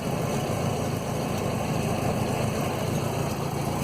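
The engine of a 1967 Land Rover Series 2a 109 idles steadily after a restoration, a close, constant low rumble with an even mechanical chug that never varies in level.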